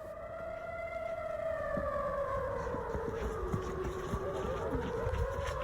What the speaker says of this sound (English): And of course, the ever-present sirens going off when incoming missile barrages are detected.